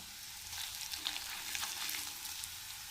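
Flattened rice (chira) fries in hot oil with sugar, giving a close, steady sizzle with light crackles and stirring.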